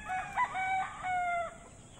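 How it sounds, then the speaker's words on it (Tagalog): Chickens and a rooster in a crowded backyard coop, with a rooster crowing clearly and nearby hens clucking across about two seconds. "Yan po, napakaraming manok mga kaubayan,"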